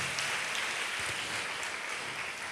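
Congregation at a Palm Sunday church service claps together in a steady, dense wash of applause, fairly faint and without voices.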